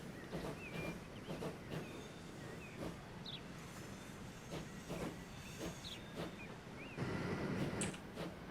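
A modded train in a rail-building video game runs along the track: steady rolling noise with a soft steam-like hiss and faint rhythmic clicking over the rails, heard up close with no talking.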